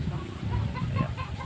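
Chickens clucking close by, a steady run of short overlapping clucks from several fowl, alone without voices, at a spot where a chicken is about to be slaughtered for a meal.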